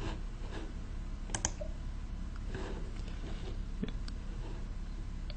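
A few sharp mouse clicks, single and spaced apart, sound close and fairly quiet over steady low background hum while a tick box is checked in SAP software.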